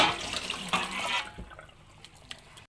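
Rinse water draining off soaked burnt rice, a steady close splashing pour from a pot into a sink that tapers to a thin trickle and quiet drips by the end.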